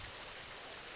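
Steady rain pours through a night scene in a Hindi cartoon, a continuous even hiss of falling water with no voices.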